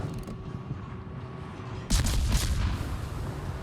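Torpedoes striking a slow Colorado battleship in a naval video game: a sudden burst of loud booming explosions with rumbling impacts after a quieter mechanical stretch.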